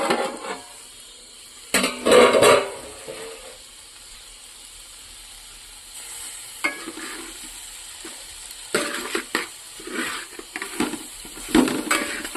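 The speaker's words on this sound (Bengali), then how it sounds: "তো ঢাকনাটা খুলবো আমি।" A metal lid comes off a cooking pot of spices simmering in oil over low heat. There is a brief clattering scrape early on, then a few lighter clinks and soft rustles over a quiet hiss, with no voices.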